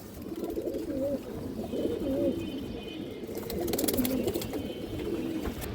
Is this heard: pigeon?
yes